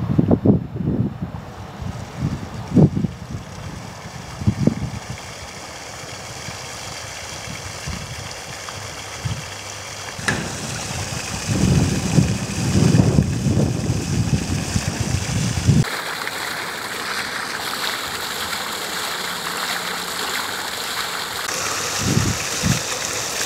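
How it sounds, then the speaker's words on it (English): An aerator running in a muddy farm dam gives a steady churning, rushing water-and-motor drone with gusts of wind noise, continuous and fairly loud throughout with occasional bumps. "So we'll keep that aerator going for a bit longer."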